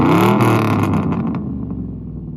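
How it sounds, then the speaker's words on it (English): A Ford 5.4 Triton V8 revs through an aftermarket exhaust that keeps all four factory catalytic converters, a loud, close rev that swells and then falls away into a rumbling idle. "And now Jake's gonna give her some revs."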